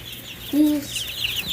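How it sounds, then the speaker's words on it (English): A chick in a brooder gives a single short, close call, with a quiet room hum around it. "And these are all our chicks."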